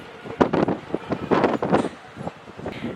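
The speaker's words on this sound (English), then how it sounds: "It's so windy, but it's not terribly cold today," Wind gusts buffet the microphone outdoors near the lighthouse in La Linea and Gibraltar, arriving as loud uneven rushes and rumbles with brief lulls between them.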